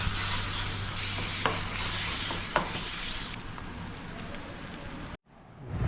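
Beaten egg sizzles steadily in a hot pan for a spicy bhurji-style scramble, with a few light clicks of stirring over the close, constant frying hiss before it cuts off abruptly.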